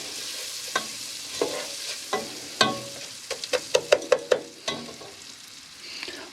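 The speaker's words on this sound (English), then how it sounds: "So we stir this up a little bit until the little noodles in it, the ronies of the rice-a-roni, when the little noodles brown up a little bit." A wooden spoon or spatula stirs Rice-a-Roni as it fries in a pan, sizzling steadily beneath a run of close scraping strokes, with a quick cluster of strokes in the middle.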